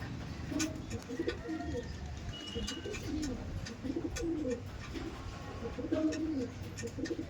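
Madrasi pigeons coo in soft repeated rumbling phrases at a house loft, fairly close, over a low background hum with a few faint chirps.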